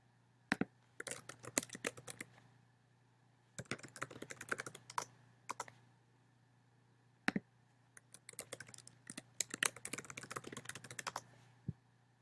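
Typing on a computer keyboard while using document-approval software, heard as bursts of crisp, close key clicks with short pauses between runs over a low steady hum.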